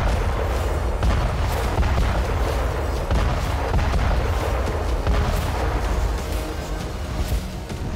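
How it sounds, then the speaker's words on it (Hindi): Heavy, continuous rumbling blasts roll together, loud and dense, like a barrage of bomb explosions with no clear gaps between them. "एक ही प्रहार से 10 बमों जैसा विस्फोट।"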